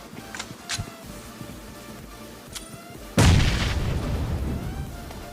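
A cooked grenade blows up in PUBG Mobile with a sudden loud boom and a rumbling tail, after a few faint game pops and clicks.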